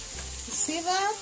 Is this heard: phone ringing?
no